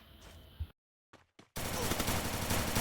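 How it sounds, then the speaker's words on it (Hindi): Rapid automatic gunfire from the mobile battle-royale game Free Fire, a loud sustained burst filling the last second after a short silence and a few faint clicks. "उसने मुझ पर गोलियां चलाई"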